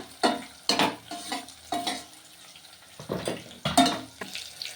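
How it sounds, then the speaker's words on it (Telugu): Onions with green and dry red chillies fry in a pan, with repeated spoon scrapes and stirs over a low sizzle, several distinct bursts of stirring spread across the clip. "ఉల్లిగడ్డలు, పచ్చిమిరపకాయలు, ఎండుమిరపకాయలు, వేపుకుందామండి ఇట్లా మంచిగా."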